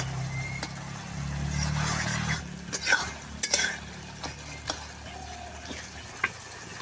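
Paneer chhena is stirred into masala in a pan: steady scraping and clattering of a spoon against the metal, with scattered knocks and taps.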